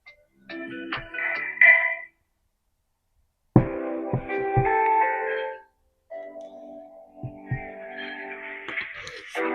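A phone ringtone played through a handmade passive phone amplifier, heard as three bursts of bright electronic melody separated by short silences, fairly loud with no talking.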